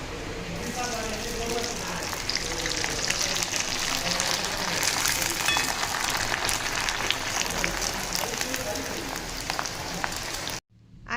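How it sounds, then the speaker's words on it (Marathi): Heavy rain pours down outside, a dense, continuous hiss of drops striking surfaces that stays loud and even throughout before cutting off abruptly near the end. "बाहेर पाऊस पण खूप जोरात चालू आहे असं वाटतंय की पावसाला फक्त सुरुवातच झाली आहे जोर जोरात पाऊस येतो आहे"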